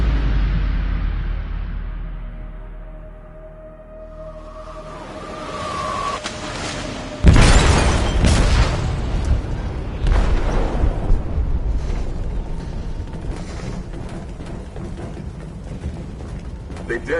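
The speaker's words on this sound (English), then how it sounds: "They detonated an explosive in the hold." A loud explosion detonates in a ship's hold in Detroit: Become Human, a sudden low boom after a quiet tense stretch, followed by sustained rumbling, creaking and crashing debris as the vessel begins to sink.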